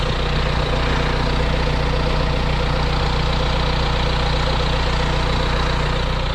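A Kia Carnival Limousine engine idles up close, a steady low rumble with a faint rhythmic ticking running through it, loud and constant, with no talk.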